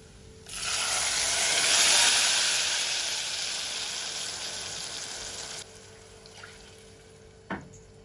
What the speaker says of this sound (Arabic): هلا بحط مي